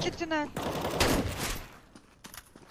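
Rapid automatic gunfire in Counter-Strike: Global Offensive, a loud dense burst of shots over about a second that then trails off into scattered sharper reports, with a player's voice talking over the start.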